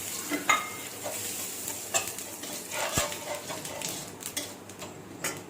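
Black cumin seeds tossed into hot oil for a light pabda fish curry crackle and sizzle softly, with scattered ticks and a few sharp clinks of a spoon against the pan.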